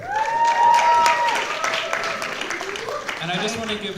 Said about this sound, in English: I just want to give Karima another round of applause